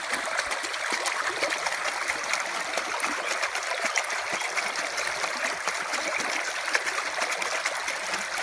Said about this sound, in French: Donc là on peut voir l'eau qui coule